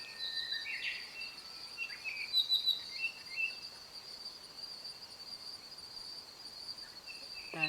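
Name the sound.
birds calling on a hike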